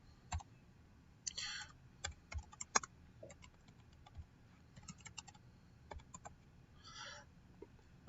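A computer keyboard clicks irregularly as a MySQL select query is typed, with sharp separate keystrokes and short bursts set against a quiet room, no voices.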